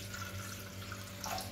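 Tap water runs steadily into a container, measured out for making jelly in a mango dessert recipe, a continuous close splashing rush with no speech.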